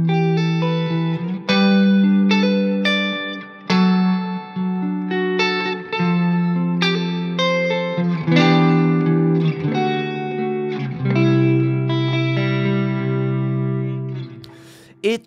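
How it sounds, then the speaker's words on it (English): Solo guitar notes and chords ringing out through a long, warm, full-bodied reverb, each note sustaining and blooming into the next in a steady, unhurried melodic passage without talking. "Much longer and warmer. So I think it's a great reverb for ambience"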